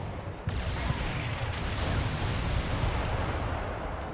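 In the Cold War tactical game CMCW, an ATGM launch gives a sudden sharp whoosh that swells into a sustained rushing roar with low rumble, followed by a short burst of higher hiss.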